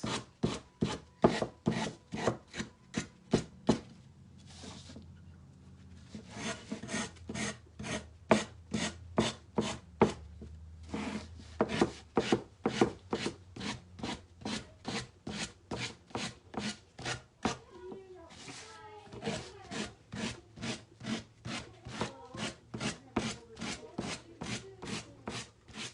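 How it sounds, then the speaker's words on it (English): Sanding the edges of a wooden craft sign produces a long run of rhythmic back-and-forth rasping strokes, close and fairly quiet, with a few short pauses between passes. "And I'm going to sand off the edges."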